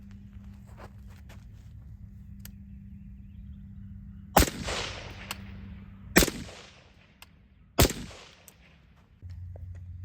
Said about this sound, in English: we're going to fire the first 3 shots on camera to confirm 0